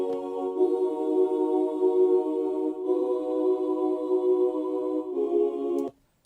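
Sustained full choir pad from the Omnisphere software synth, a bounced WAV of warm layered voices holding steady chords that shift twice before cutting off abruptly near the end.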